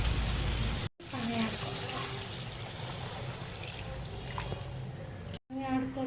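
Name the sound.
pouring water into fish curry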